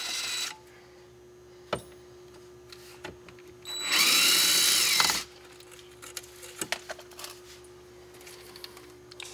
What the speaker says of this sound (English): I'm gonna go ahead and remove these screws